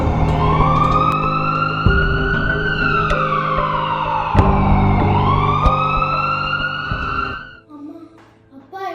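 An ambulance siren wails loudly and continuously with rising and falling sweeps, close by, then cuts off abruptly near the end, leaving quieter background noise.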